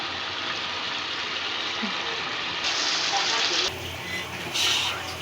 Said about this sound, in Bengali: এখন এক পিস করে মাছ ছেড়ে দিব।